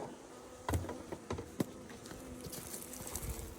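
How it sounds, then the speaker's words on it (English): Honeybees buzz around an opened beehive during an inspection, with several close passes and thuds of bees near the microphone over a faint steady hum, with no voices. "there's a couple of bees in there"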